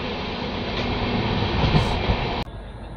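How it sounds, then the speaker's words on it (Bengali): Sealdah–Jalpaiguri Road train 13115 pulling into Naihati Junction, a loud continuous rolling rumble of carriages that swells slightly and then cuts sharply to a quieter hum near the end. "ট্রেন তার যাত্রাপথের প্রথম স্টপেজে চলে আসলো নৈহাটি জংশন।"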